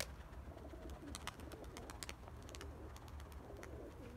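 A pigeon coos softly at a loft in the evening, with faint repeated calls and chirps over a low steady rumble.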